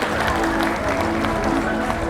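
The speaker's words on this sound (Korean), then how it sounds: "뜨거운 박수로 환영해 주시면" A crowd at a book concert claps steadily in a dense burst of applause, with some voices murmuring underneath.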